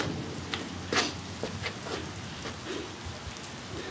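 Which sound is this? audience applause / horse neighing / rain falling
rain falling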